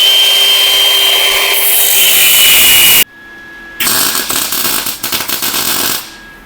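A loud power tool grinds and cuts through metal on a 1978 Ford F250 truck being restored. It starts as a steady whine, stops abruptly, then resumes in rougher, pulsing bursts before winding down.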